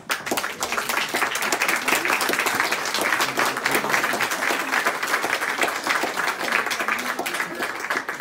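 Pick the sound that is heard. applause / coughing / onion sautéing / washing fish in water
applause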